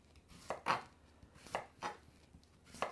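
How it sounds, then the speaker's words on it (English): A knife cuts away the top layer of a celeriac, making about five crisp, close cuts that land against a board in an uneven rhythm, with no voices. "And then using your knife, just cut away the top layer."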